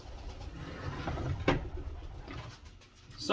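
Pigeon at a loft giving a soft, low coo over faint background noise, with a short brighter call midway; fairly close and brief.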